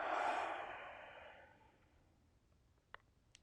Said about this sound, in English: So breathe in and exhale.